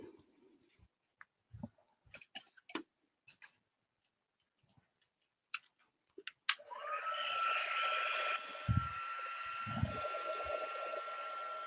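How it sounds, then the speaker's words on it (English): A heat embossing gun switches on after a few scattered taps and handling clicks, then blows a steady loud whirring rush of hot air over cardstock, with a few low thumps beneath. "I'll bring in my heat embossing gun again."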